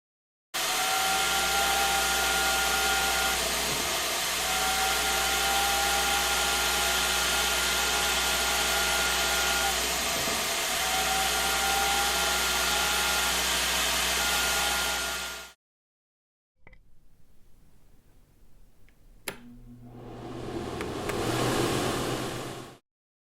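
A carpet extractor pulls dye out of soaked carpet with a loud, steady motorized suction whine for about fifteen seconds, cuts off abruptly, then after a quiet gap with a sharp click, spins back up into a rising roar.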